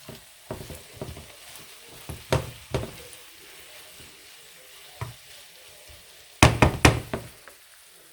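Pasta primavera vegetables seasoned with a dash of Italian seasoning are tossed in a pan, giving soft sizzling under intermittent spoon knocks and scrapes, with a louder flurry of clatter toward the end; no one speaks.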